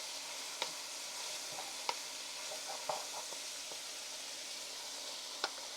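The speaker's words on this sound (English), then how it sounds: "Throw my garlic in there. Maybe 20 seconds on that." Garlic sizzles in a pot of vegetable beef soup, with a steady soft frying hiss broken by a few sharp clicks of stirring or spatula taps against the metal.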